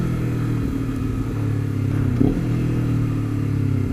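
A Honda CBR250RR sport motorcycle cruises in comfort mode, its engine droning at a steady, moderate pitch with a brief rise in revs partway through.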